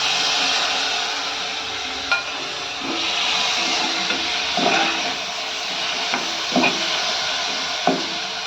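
Tomatoes dropped into hot Malvani masala frying in a pan, a steady broadband sizzle with several soft thuds and stirring scrapes scattered through it, close and moderately loud, no talking.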